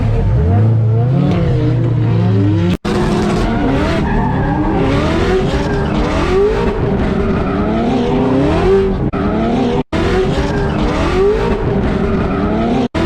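A drift car on a wet track roars back onto the throttle, its engine rising and falling in loud revving sweeps with tire noise, close and continuous, broken by a couple of brief cuts.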